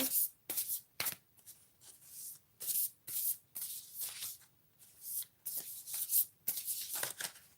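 Tarot cards are shuffled by hand at close range in repeated crisp riffling bursts separated by short pauses, fairly quiet and with no talk over it.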